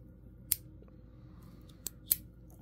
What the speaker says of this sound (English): with the scissors deployed